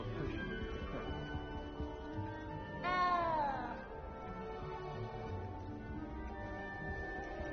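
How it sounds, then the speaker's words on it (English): A single drawn-out cat meow rises clearly near the middle of a Hogwarts Legacy game scene, standing out over a steady low ambient background. "I keep hearing the meowing of that cat."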